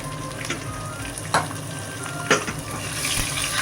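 Garlic, curry leaves and ripe chillies sautéing in hot oil for a dosakai dal tempering, a loud close sizzle with a couple of spoon scrapes through it.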